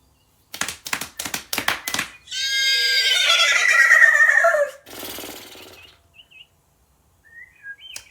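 A person imitates a horse neighing: a few breathy clicks and snorts, then a long, loud, quavering whinny that trails off, followed by quiet scattered noises.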